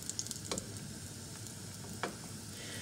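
Feta-filled boreks, pastry cigars, fry in a pan with a steady, close sizzle of hot fat, broken by a few sharper crackles and pops.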